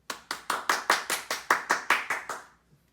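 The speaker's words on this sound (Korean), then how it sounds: "우리 잠깐 박수로 축하할까요?" A church congregation at a home family worship service claps in unison for birthdays, about a dozen even, rhythmic claps that stop cleanly, heard fairly close with no talking over them.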